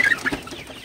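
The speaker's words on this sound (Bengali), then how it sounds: "পানি দেওয়ার পরে মুরগিগুলাকে একটু তাড়াই দিতেছি" Sonali hybrid chickens cluck in a short burst as they are chased around a poultry shed after being given medicated water, with a few close clucks early and the sound fading to low background.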